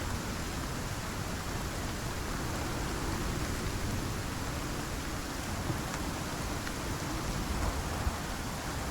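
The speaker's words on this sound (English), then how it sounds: "Thankfully the storm isn't that bad" A storm in the survival game Icarus brings a constant, even hiss of heavy rain falling on surfaces, faint and unbroken throughout.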